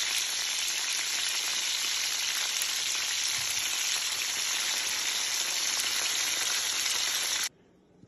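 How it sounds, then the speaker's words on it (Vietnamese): Tofu and tofu skin sizzle in hot oil in a pan, a loud, steady, close crackle running unbroken for several seconds before cutting off abruptly near the end. "mình đã chiên đậu hũ và tàu hũ kỳ cộng hết xong hết rồi nhé cả nhà"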